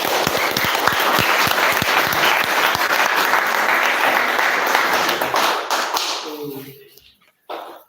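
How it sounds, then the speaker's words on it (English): Applause from training participants at a regenerative agroforestry training, a crowd clapping loudly and steadily for several seconds before it fades out, with faint voices underneath near the end. "give yourself a deserving round of applause for yourself"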